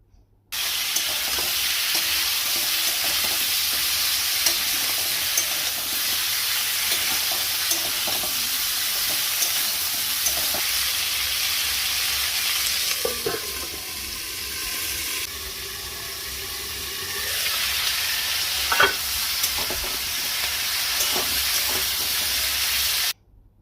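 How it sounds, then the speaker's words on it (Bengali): Mixed vegetables with slit green chillies, salt and turmeric fry in a pan for a hilsa fish head dish. A continuous close sizzle carries occasional stirring scrapes. "সবজিগুলো খুব সুন্দর করে ভাজা হয়ে গেছে।"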